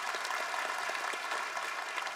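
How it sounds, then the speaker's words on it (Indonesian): Congregation clapping during a Christmas church service, a steady spread of many hands at moderate distance, fairly soft and continuous without voices on top. "kasih tepuk tangan untuk Tuhan Yesus"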